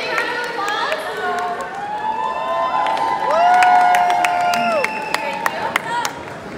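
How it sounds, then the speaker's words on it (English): Audience at the 1 Billion Followers Summit at Atlantis Dubai cheering and clapping, with a whistle-like tone and sharp claps over a lively room, a voice calling out amid the noise. "Big round of applause"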